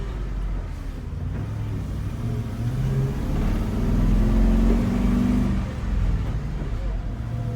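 A forestry bucket truck's engine idles with a low, steady rumble, then swells briefly as if revved before easing back, heard up close throughout.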